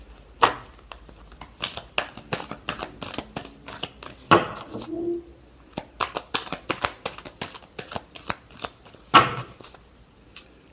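Tarot cards shuffled by hand, producing repeated sharp riffling snaps and quick flicking bursts in an irregular rhythm, close and clear, with a few louder slaps and a brief voice between.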